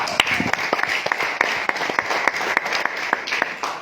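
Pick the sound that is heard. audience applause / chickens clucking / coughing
audience applause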